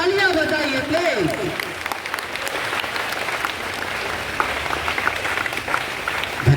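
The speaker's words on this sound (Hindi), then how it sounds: "एक बार जोरदार तालियां बजाइए प्लीज" Loud sustained applause from a crowd at a school assembly ground, dense steady clapping for several seconds, with a voice briefly audible at the start.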